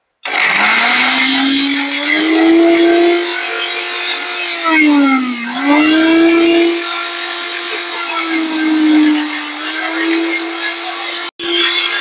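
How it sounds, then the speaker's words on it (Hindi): A loud electric mixer grinder grinding coconut husks whirs steadily, its motor pitch dipping briefly under load before recovering, running continuously close to the microphone. "इसके बाद आपको मिक्सी चलानी है।"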